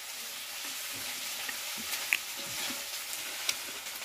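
Meat cooking in a pan, stirred with a ladle, hisses in a steady, moderate sizzle with occasional soft scrapes and small pops, close by and with no talking.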